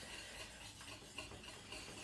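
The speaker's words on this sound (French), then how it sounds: "Je mélange." A spoon stirs béchamel sauce in a pan, making soft, continuous scraping and swishing close by, faint and steady with a few slightly sharper scrapes.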